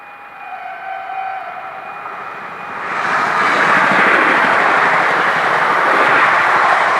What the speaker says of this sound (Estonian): Vaata seda, uus rong.